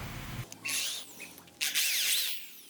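A power drill fitted with a countersink bit bores into a speargun arrow in two short whirring bursts, close and fairly loud, separated by a brief pause, with no speech.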